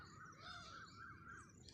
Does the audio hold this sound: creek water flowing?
no